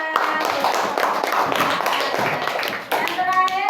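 Elementary school children clap in a classroom, a brief patter of hands mixed with overlapping young voices talking.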